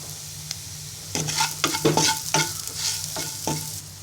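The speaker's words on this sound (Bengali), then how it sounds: "এবার ভালো করে নেড়ে নিব" A spoon stirs onions with salt and coriander powder in a pan, making a scraping, sizzling sound. After a quiet start, a run of clear stirring strokes follows, close and fairly loud, with no talking.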